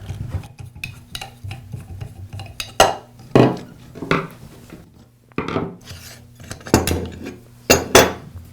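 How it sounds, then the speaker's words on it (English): Side handle and guard being taken off a Makita angle grinder on a workbench: metallic scraping, rasping and clanking of parts, with a few louder knocks and clunks close by. "I'll begin by removing the side handle and the guard."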